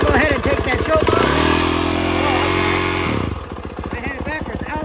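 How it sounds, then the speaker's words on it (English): A 2019 Yamaha YZ450F motocross engine sputters at idle, then surges into one sustained rev lasting about two seconds before dropping back to a rough, rapid idle, loud and close. "We'll give her a couple of revs."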